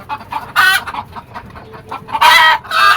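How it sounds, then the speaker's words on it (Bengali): Native Bangladeshi hens on a rooftop farm cluck in short, loud bursts, with a rooster's crow rising near the end; the calls come close and clear over quiet background. "দেখেন আমাদের দেশি মুরগি এগুলা"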